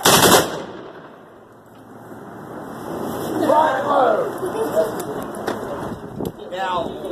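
War of 1812 reenactors fire a musket volley at Harper's Ferry outdoors. A loud crack opens the clip, then a long fading rumble follows, with people talking and a few scattered pops afterward.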